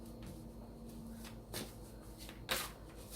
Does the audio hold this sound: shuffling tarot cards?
yes